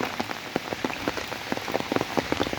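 Steady, continuous rain falling close by during days of unbroken downpour beside the Arial Beel wetland, a dense patter of drops on surfaces with no voices.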